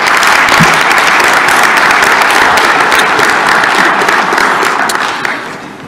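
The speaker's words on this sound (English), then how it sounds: "So I'd like to get a round of applause for the staff." A large audience at a helicopter industry HAI event gives sustained, loud, dense applause for the staff, even throughout and fading slightly at the end.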